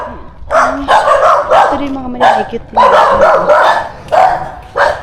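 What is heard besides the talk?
dogs barking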